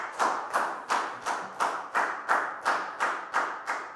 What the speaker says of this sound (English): Big round of applause for Lakgao, guys.